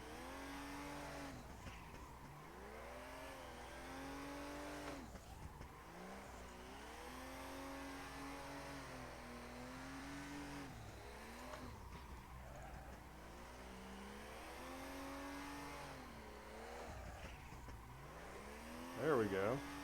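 Drift cars in the Assetto Corsa racing sim rev and wail through long rising and falling engine sweeps with tire squeal, the engine note continuous and steady across the whole stretch.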